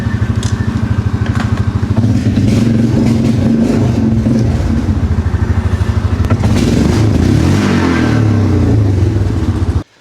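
A Yamaha Grizzly ATV fitted with a new clutch kit revs hard and loud up close, a rapid pulsing engine drone that climbs in pitch, then cuts off abruptly at the end.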